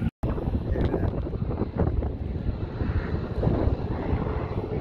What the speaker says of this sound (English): Yeah, this is a paratrooping plane.